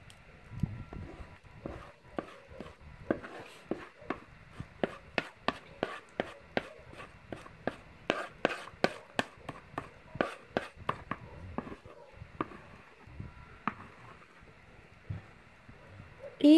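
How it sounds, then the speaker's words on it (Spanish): Egg, butter and honey batter being whisked in a bowl for gluten-free biscuits, a steady run of sharp, close clicks and taps from the whisk with no talk. "Y seguimos batiendo"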